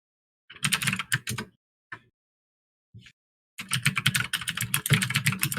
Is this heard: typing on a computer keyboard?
yes